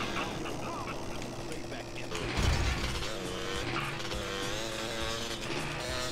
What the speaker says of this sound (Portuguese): Ó, vale, um pulão com essa moto